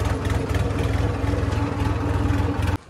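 A Swaraj 963 tractor idles close by with a steady low engine throb and a regular rhythmic pulse, running evenly before it cuts off abruptly near the end.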